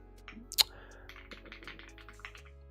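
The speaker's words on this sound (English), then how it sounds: "apologies for the typing." Typing on a computer keyboard: a run of soft, irregular key clicks close by, with one sharper tap standing out, over a low steady hum.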